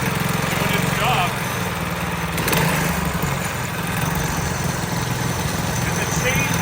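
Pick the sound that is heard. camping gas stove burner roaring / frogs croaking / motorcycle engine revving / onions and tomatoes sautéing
motorcycle engine revving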